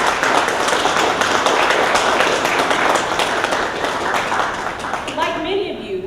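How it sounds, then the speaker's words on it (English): Audience applause for TRIO program staff at a speaking event, a steady dense wash of clapping that holds loud for about five seconds before thinning out near the end. "Let's give them a round of applause."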